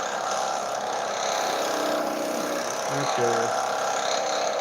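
A wood lathe spinning a Christmas ornament blank at low speed gives a steady mechanical hum and whir, with a person briefly speaking over it.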